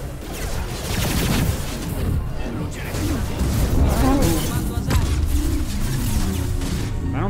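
Mass Effect 2 Legendary Edition combat plays on insane difficulty with dense, rapid bursts of weapon fire and impacts, loud and continuous, mixed with game voices and effects.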